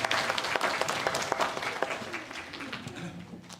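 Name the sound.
church congregation applause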